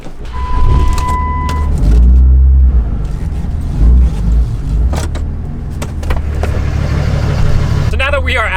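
A 5.9 Cummins diesel pickup truck drives along with a steady low engine and road rumble heard from inside the cab, a brief tone early on and a few clicks and thumps over the constant drone.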